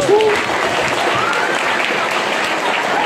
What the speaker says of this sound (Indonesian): Tepuk tangan lo yang mau di Oxford kuliahnya nih